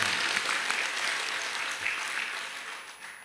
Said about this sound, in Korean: 다시 한번 박수 한번 치시고.